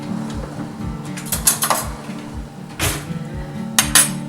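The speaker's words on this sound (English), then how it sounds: "Let me get a spoon real quick." Metal utensils clink and clatter in a kitchen as a spoon is fetched, a string of sharp, close knocks and rattles spread over several seconds with no talking.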